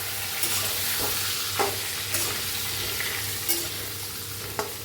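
Spiced brinjal (eggplant) pieces frying in a pan, a steady sizzle with a low stove hum beneath, broken by a few scraping stirs of a spoon against the pan, close and alone without talk.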